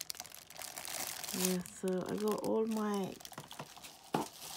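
Plastic bag crinkling from a clothing and accessories haul, soft close rustles around the edges of talk that dominates the middle.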